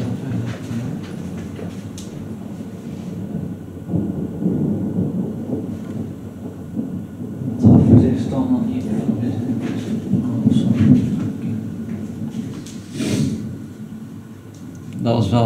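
Heavy thunder from a fast-moving April thunderstorm with positive lightning strikes rumbles loudly in rolling swells, peaking about halfway, while people talk over the roar.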